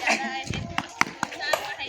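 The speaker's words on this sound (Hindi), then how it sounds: "दर्शकों द्वारा ताली की आवाज" Spectators at a street cricket game clap in scattered, irregular claps, a few sharp hits standing out, mixed with nearby voices talking over them.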